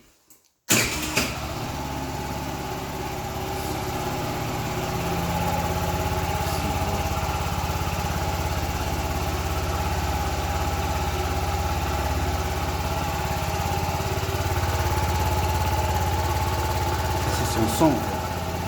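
A 2021 Peugeot Streetzone 50cc four-stroke scooter engine catches after a brief start attempt, then settles into a steady, close buzzing idle that runs on evenly to the end.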